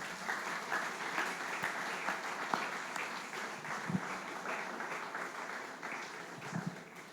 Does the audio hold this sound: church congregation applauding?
yes